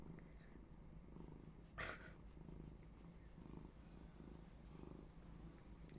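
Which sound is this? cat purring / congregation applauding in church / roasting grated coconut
cat purring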